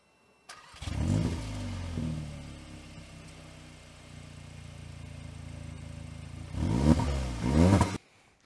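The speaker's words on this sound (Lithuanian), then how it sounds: "Pasiklausykite, kaip dirba šis variklis." A CUPRA Formentor VZ crossover with a 333 hp engine starts, settles into a steady idle, then revs sharply twice before cutting off, heard up close and loud.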